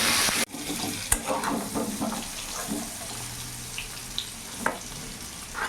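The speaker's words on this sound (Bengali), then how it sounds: "পেঁপে আর আলুটা একটু ভাজা ভাজা করে নেব।" Papaya and potato pieces frying in a wok with salt and a little turmeric, a soft continuous sizzle under scraping stirs and occasional clinks, close by and fairly quiet.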